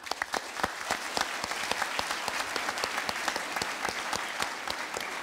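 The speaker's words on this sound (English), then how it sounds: "So I'm going to clap for the server members." Clapping at the MineCon convention rings out in a steady patter of sharp claps, close and fairly loud, continuing for several seconds.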